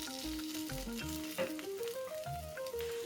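Kuzhi paniyaram batter of pumpkin and broad beans sizzles steadily in the pan, a close, continuous frying hiss with soft bubbling throughout.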